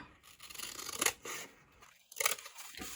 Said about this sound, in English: Then you just need to cut off the excess here.